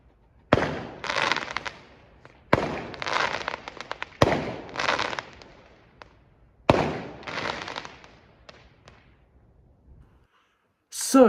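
Loud Bonfire Night fireworks burst outdoors in four sharp cracks at uneven intervals. Each leaves a crackling, echoing decay, and a brief noise comes at the very end.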